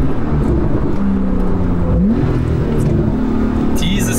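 A Porsche 911 Carrera 4 GTS of the 991.2 generation pulls hard under throttle, a loud, steady engine drone heard from inside the car, with a quick gear change midway and the pitch climbing again after it.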